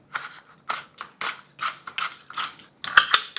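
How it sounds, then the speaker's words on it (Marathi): A hand-cranked sev mould press squeezes jowar flour noodle dough, giving a series of rhythmic creaking, ratcheting clicks and squeaks, close and fairly loud, with no talk. "आता याची शेव पाडून घ्यायची."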